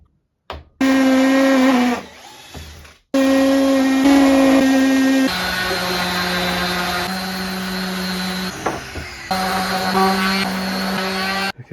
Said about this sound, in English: Time to pocket screw.